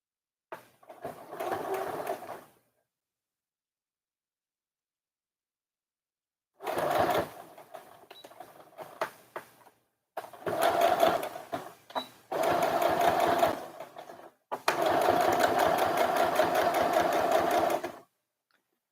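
A sewing machine stitches along the neckline edge of a little girl's dress in several bursts of rapid, steady motor hum and needle chatter, close, separated by silent pauses, the last run longest.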